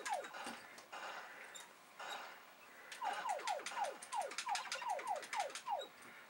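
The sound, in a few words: shooting sound in Commodore 64 Superman video game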